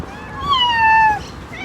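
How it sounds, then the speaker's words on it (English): A cat gives a single clear, drawn-out meow close by, lasting under a second against low outdoor background noise. "We got a cat."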